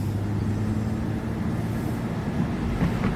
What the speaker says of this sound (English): I still hear the engine,